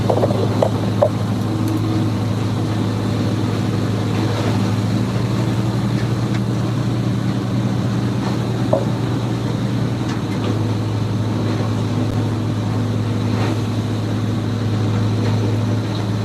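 A wood grinder works through cedar mulch with a steady, droning mechanical roar, heavy and continuous, with a few faint knocks and clatters over the top.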